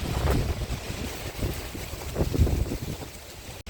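Strong wind blowing through a garden in October, a steady rushing roar with gusty swells and buffeting against the microphone, continuous throughout with no talking.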